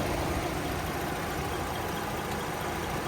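A 3.6-liter V6 engine in a 2014 GMC Terrain Denali idles with a smooth, steady broadband hum, even and continuous with no revving or talk.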